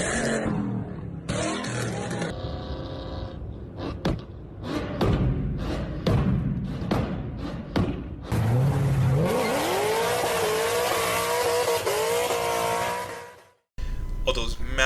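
A loud Ford V8 Mustang engine revs and roars close by, with tire squeal and skidding, bursts of throttle and thumps, then a sustained howl before it cuts out abruptly near the end.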